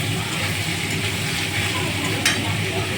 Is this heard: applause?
no